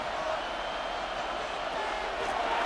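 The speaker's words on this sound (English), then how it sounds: "This crowd into it now as we get to third down." Stadium crowd noise in a Madden 26 football game between the Los Angeles Chargers and New England Patriots: a steady, broad roar of a cheering crowd filling the whole moment.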